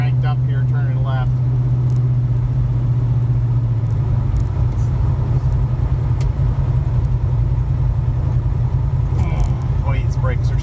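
Car engine rumbling loudly and steadily as the car drives and turns left, with a low droning hum throughout and no clear speech.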